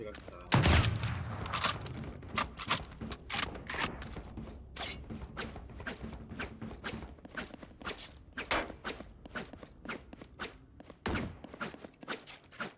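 Rapid gunfire in the tactical shooter Valorant, a dense stream of sharp shots in quick bursts with mechanical clicks and footsteps, loud and close, with speech mixed in.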